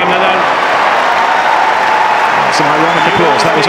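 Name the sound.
ironic applause from tennis crowd at Wimbledon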